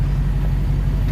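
A 2021 Dodge Charger Hellcat Widebody on its stock exhaust, giving a steady, loud, low engine rumble close by with no speech.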